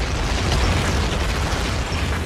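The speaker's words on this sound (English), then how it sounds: "Now comes bombardment by artillery." Artillery shells burst in a continuous rumbling barrage during the D-Day bombardment of Normandy, a dense, loud roar of booms with no clear gaps.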